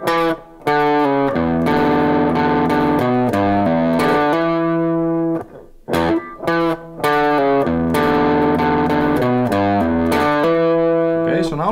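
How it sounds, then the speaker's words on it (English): Electric guitar with effects and distortion plays the second measure of a riff, loud and close: a run of picked notes, then a brief gap, then the phrase repeated, with no talk. "when I play the whole second measure, sounds like this"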